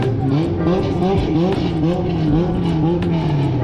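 A K-swapped Honda EF Civic racing in the Drag Rivals game, its engine droning loud and steady with rising and falling revs through gear changes, over a continuous mechanical roar.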